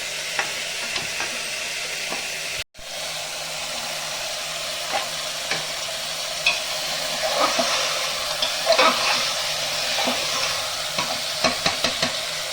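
Fried potatoes going into a sizzling chicken curry in a pressure cooker, with a steady frying hiss, a sharp clatter as they drop in, then repeated scraping stirs close by.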